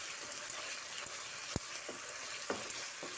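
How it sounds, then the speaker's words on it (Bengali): Ginger and spices, including Kashmiri chilli powder, frying in a pan for potato dum, giving a steady soft sizzle broken by a few sharp pops and crackles. "আদার কাঁচা গন্ধটা চলে যাওয়া পর্যন্ত একটু ভেজে নেব"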